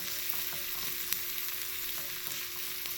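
Onions with ginger garlic paste stirred in a pan, a continuous soft sizzle with light spoon scrapes and taps throughout, close and steady.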